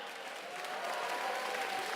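An audience at the Nintendo European Championships 2023 applauds and cheers in a steady, dense wash of clapping that swells slightly, heard from a distance at moderate level without speech.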